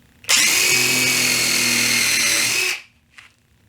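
A power drill whines loudly and steadily for about two and a half seconds while drilling pilot holes in wood, winds down, and is followed by a brief softer burst.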